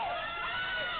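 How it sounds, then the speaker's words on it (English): A roller derby crowd roars with screams and cheers near the end of a close bout, a dense wall of voices sustained without pause over about a second. "I don't know if you can hear the crowd behind me, but everyone is just screaming"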